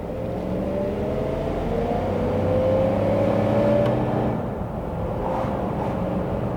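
Rolls-Royce Silver Cloud III driving on the road, heard from inside as a smooth, steady engine hum and road rumble with a gently rising tone as it pulls, no talking.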